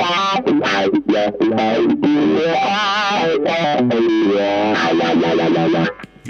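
Electric guitar played through a Leo Nocentelli Mardi Gras CryBaby signature wah pedal, a loud, continuous funky riff of low notes with sweeping wah vowel tones and distortion, playing alone for about six seconds before a brief drop.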